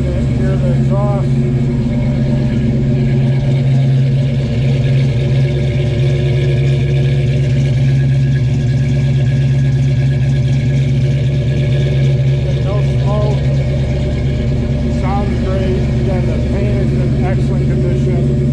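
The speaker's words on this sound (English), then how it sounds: "Take it back, let you hear the exhaust." A 1969 Ford Mustang Mach 1, restored and upgraded, idles with a steady low exhaust rumble throughout, close and loud, with a person talking over it now and then.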